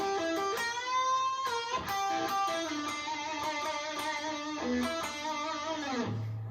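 An electric guitar plays a short riff, plucked notes and bends, ending on a sliding note; no one speaks.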